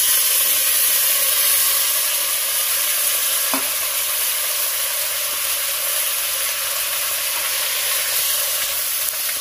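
Steady, loud sizzling of long thin-sliced potatoes frying in oil in a pan for a village-style fish dish, with a faint stir or scrape partway through and no talk.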